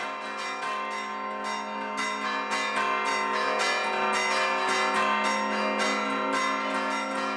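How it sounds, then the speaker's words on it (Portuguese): Church tower bells rung by hand in a rhythmic peal, loud, rich and ringing continuously with overlapping strikes throughout. "Esse toque de sino, o que a gente faz"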